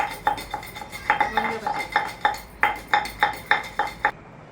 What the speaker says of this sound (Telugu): కరివేపాకు మరీ మెత్తగా దంచొద్దు ఒక్కలు చెక్కలు దంచుకోవాలి